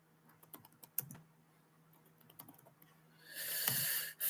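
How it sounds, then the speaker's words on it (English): Computer keyboard typing during a live hunting stream, scattered soft key clicks for a few seconds, then a louder broadband hiss or rustle near the end. "Let's type something in the chat here."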